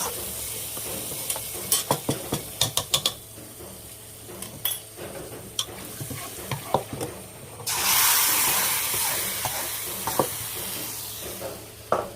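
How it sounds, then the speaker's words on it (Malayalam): Spoons clink and scrape against a pot for several seconds, then hot fried seasoning is poured into a thick jackfruit-seed curry, bursting into a loud, close sizzle that slowly fades, with a few more clinks. "ഇനി ഈ ചക്കക്കൊരു കറിയിലോട്ട് ഈ വറുത്തിട്ടത് ഒഴിച്ചു കൊടുക്കാം"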